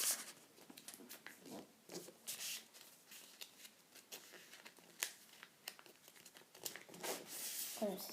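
Origami paper for a small box is creased and folded by hand, giving soft, close, irregular crinkles and rustles throughout.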